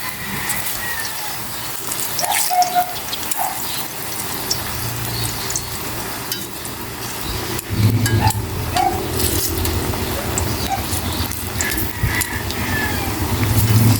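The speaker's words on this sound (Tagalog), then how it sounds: "Mainit na ang kawaling may mantika." Steady crackling sizzle of food frying in hot oil, continuous and fairly close, with occasional brief clinks and no talking.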